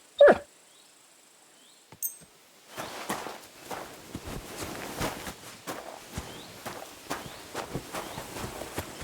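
A dog in the medieval video game Kingdom Come: Deliverance 2 moves about near the listener, with soft padding steps and faint whimpers mixed into steady game ambience after a brief sharp sound and a quiet opening.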